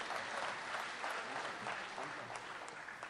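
Applause from the audience at the International Urdu Conference 2019 mushaira in Ichalkaranji, steady dense clapping heard at a distance, fairly faint and without voices.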